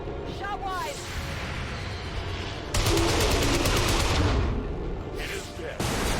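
Gunfire in the video game XCOM 2: War of the Chosen, a dense, rapid burst of loud shots erupting mid-scene over a rumbling battlefield backdrop and continuing for a couple of seconds before the game ambience returns.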